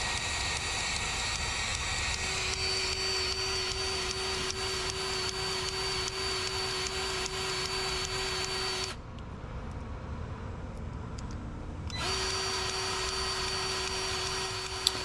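A Milwaukee cordless grease gun pumps grease with a loud, steady motor whir that drops out briefly partway through and then resumes, close and with no voices.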